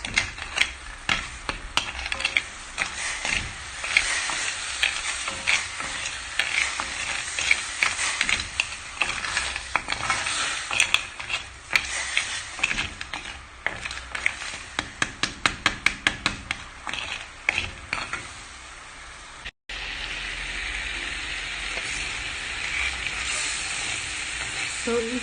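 Cocoa pod potash stirred into hot water, a busy scraping, clicking churn with rapid ratchet-like taps running steadily throughout, briefly cutting out near the end before resuming.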